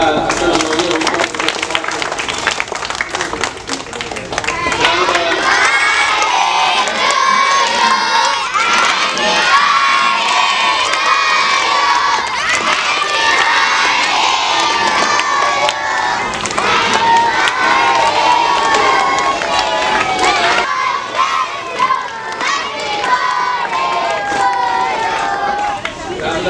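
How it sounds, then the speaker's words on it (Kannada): A large crowd at a birthday felicitation for a human rights committee president cheers and shouts loudly, with children's voices prominent and some clapping mixed into a dense, sustained roar. "ಎಲ್ಲರ ಜೋರು ಚಪ್ಪಾಳೆ ಮೂಲಕ"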